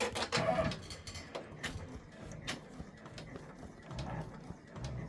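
A Brother embroidery machine stitches a freestanding gingerbread-village bridge design, giving off a soft, quick mechanical patter of needle strokes that stays faint and even throughout.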